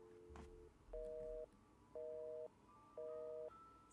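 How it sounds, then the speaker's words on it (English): Busy signal on a telephone in the video game Nancy Drew: The White Wolf of Icicle Creek: three evenly spaced electronic beeps, each about half a second long, clear and steady over faint background hum. "Sounds like she has her phone off the hook."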